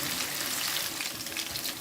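Masala fish frying in a pan over medium heat, a steady, dense sizzle and crackle close by with no talking.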